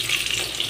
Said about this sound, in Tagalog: Gisa natin bawang.